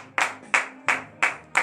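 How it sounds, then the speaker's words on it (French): Rhythmic hand clapping during a French-language morning prayer, with five sharp, evenly spaced claps about a third of a second apart, close and loud. "Donnez de vive acclamation à notre Seigneur Jésus."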